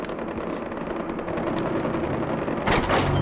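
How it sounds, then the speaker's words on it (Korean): Gunfire in the video game Far Cry 4 near an outpost, heard as a steady gritty mechanical clatter with a sharper burst near the end, no talking. "총소리가 나네요"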